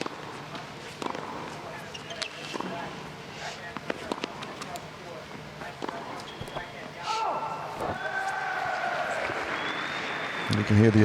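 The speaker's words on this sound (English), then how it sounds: "You can hear the Italians there cheering that first error from Radwanska." Italian fans at a Hopman Cup tennis match cheer and applaud a Radwanska error, a crowd swell rising near the end over scattered ball bounces and murmured voices.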